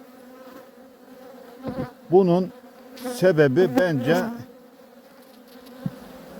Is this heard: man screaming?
no